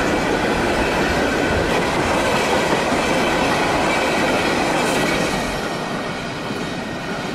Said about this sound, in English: Sometimes the train is left on the main line to await its new crew.